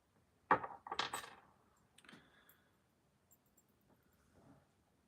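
Small handcuff keys jangle and clink together up close, a sharp metallic burst followed by quieter scattered ticks and light rattles.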